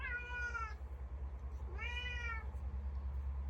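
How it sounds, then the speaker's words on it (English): A house cat meows twice, each call a clear, rising then falling yowl at close range, over a steady low hum. "my cat is going nuts"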